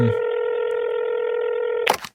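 Sakurai's phone booth sounds a steady telephone dialing tone, a loud, clean, continuous electronic tone lasting almost two seconds that ends in a short, noisy clatter.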